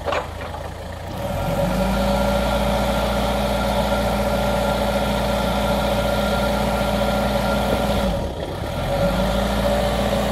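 The engine of a 2013 Komatsu FD30T-17 forklift rises from idle to a steady raised rev as the pedal is pressed, holds a droning hum, dips briefly near the end, then climbs again, loud and close.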